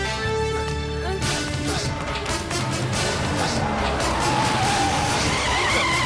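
Car tires skid and squeal as the car brakes hard to a stop, a loud screech building over several seconds, with sound effects and some voices in the background.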